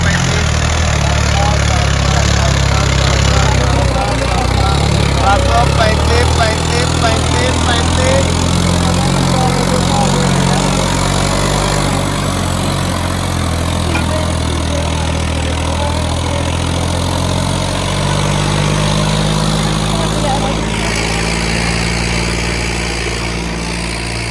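Tractor engines at a trolley-pulling competition run loudly and steadily, a deep continuous rumble that holds for the whole stretch, with a slight shift in pitch partway through.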